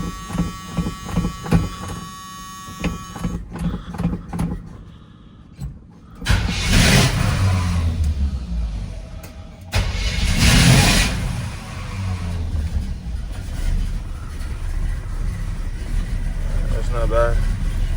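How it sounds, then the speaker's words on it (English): A Cruze car engine with freshly installed spark plugs cold-starts after a few quiet moments of talk. It catches with a loud burst and a rev, then settles into a steady, rough idle before a second rev. "We go like a little cool little cold start"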